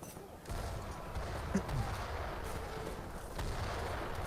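Light cannons and hand mortars fire in an Age of Empires 3 battle, a steady dense rumble of booms and distant cannon shots layered over continuous battle noise, loud and unbroken.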